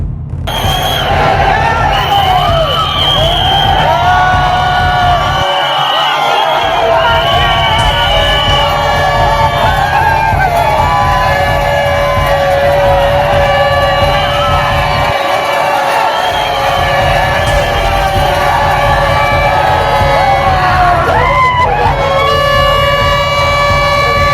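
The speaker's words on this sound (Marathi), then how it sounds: "बारा गाड्या ओढण्याचा उत्सव पाहण्यासाठी जिल्ह्यातील हजारो भाविकांनी गर्दी केली होती" Thousands of devotees cheer and shout at the Mari Mata festival in Bhusawal as twelve carts are pulled, a loud, continuous crowd roar with whoops and sustained tonal wails running through it.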